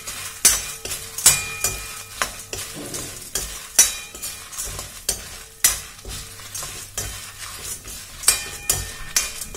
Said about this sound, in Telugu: అలాగే కారానికి సరిపోయే అన్ని ఎండుమిరపకాయలు వేసి ఒకసారి కలుపుకోవాలి.